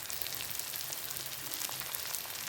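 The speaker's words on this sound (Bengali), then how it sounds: "একটা ছোট্ট কুচনো পেঁয়াজ। এটাকে কিছুক্ষণ প্রায় 2-3 মিনিট ধরে একটু আমি ফ্রাই করে নেব।" Chopped onion frying in a pan for a Bengali fish-head and bottle gourd dish, giving a steady, even sizzle that holds at a constant level without any voices.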